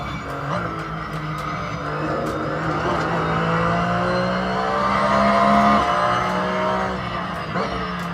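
Race car engine on track in the video game Assetto Corsa, a loud sustained howl rising and falling through gear changes with tire squeal, steady and close for the whole stretch with no talking.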